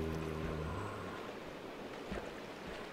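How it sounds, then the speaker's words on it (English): Minecraft zombies splash about in water, heard as a continuous wash of watery noise with soft low rumbles, moderately loud and steady, with no talk over it. "I can hear them splashing around now"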